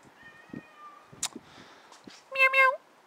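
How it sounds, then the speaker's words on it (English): A house cat meows a few times near the end, a clear close call after scattered soft sounds, with someone speaking around it. "Hey, there's kitty cat."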